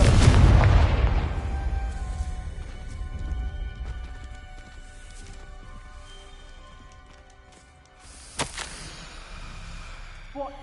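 A Confringo blasting spell in the Hogwarts Legacy video game bursts with a loud, close boom at the start, then decays into a long rumbling tail with a fainter crackle near the end.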